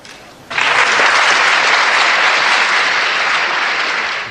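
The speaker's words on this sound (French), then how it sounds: "cette constatation applaudie comme vous l'entendez" A lecture audience bursts into loud, sustained applause after a short quiet lead-in, a thick even roar of many hands that holds steady and only begins to thin at the very end.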